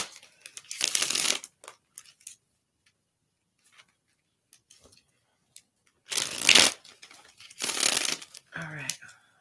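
Tarot cards are shuffled in several short bursts of riffling and flapping, each a second or so long, separated by quiet pauses with faint ticks; fairly close and moderately loud.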